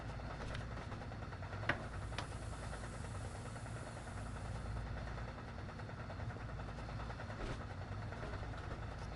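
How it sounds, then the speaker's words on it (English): Amtrak cab car in Train Sim World running over points, a steady low rumble with faint rhythmic clatter of track joints and a few sharp clicks, moderately quiet and without speech. "Lovely track joint sounds going across the points."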